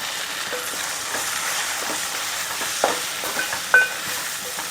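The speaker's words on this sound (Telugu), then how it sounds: "మనం ఎగ్ చెదక్ కొట్టింది ఉంది కదండి రెండు గుడ్లు అలా వేసేస్తాం" Two beaten eggs hit a hot pan of okra being fried for an egg fry, giving a steady, close sizzle and crackle with a few sharper pops and light stirring sounds.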